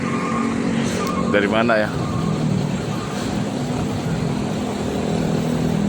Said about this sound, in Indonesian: tiba-tiba bisnya sampai.